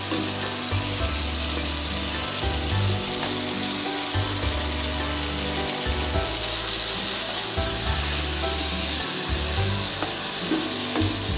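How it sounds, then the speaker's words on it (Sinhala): Eggs fry for chicken biryani in a pan with a loud, continuous sizzle close by, while a low, rhythmic scraping of stirring repeats underneath. "දැන් බිත්තර ටික බැදිලා ඇති."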